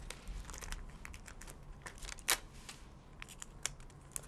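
Scissors snip through ribbon while a bow is being made, giving a few close, crisp cuts with light crinkling between them.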